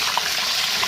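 Fried chicken frying in a pan, a loud, close, continuous crackling sizzle with no talking.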